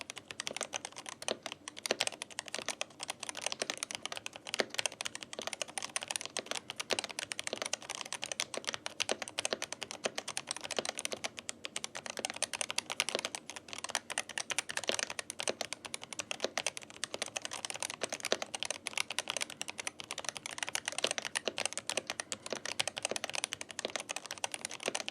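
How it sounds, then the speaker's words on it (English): Dense, continuous clatter of typing on an AJAZZ AK820 MAX mechanical keyboard with Hall effect magnetic switches, rapid keystrokes close up with no voices. "let's check how this keyboard is sound."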